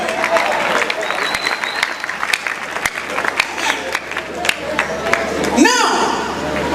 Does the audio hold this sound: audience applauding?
yes